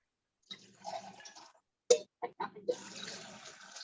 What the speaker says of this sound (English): just pour it back and forth